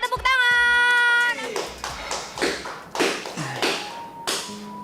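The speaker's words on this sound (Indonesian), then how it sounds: "Tepuk tangan." Clapping in a studio game show after a winning pair is announced: a few sharp, separate hand claps and taps follow a sustained musical tone, with brief voices in between.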